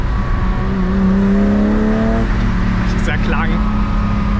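A BMW M1 sports car engine revs and climbs in pitch, loud and close, as someone talks over it.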